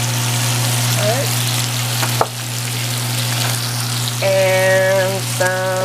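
Zucchini with mixed vegetables and spices sautéing in a pan, a loud steady close sizzle with occasional stirring scrapes, and a brief beeping tone near the end.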